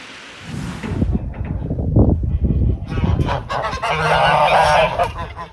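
Geese honk loudly and repeatedly at close range, a raucous flock calling over one another.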